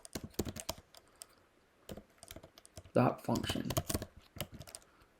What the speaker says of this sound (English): type in the search window here